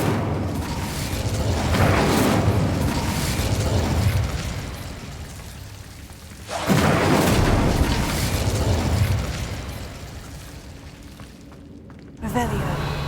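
Two bursts of fire magic from the Incendio spell in Hogwarts Legacy, each a loud roaring whoosh swelling and fading over several seconds, with a sharper crackle near the end.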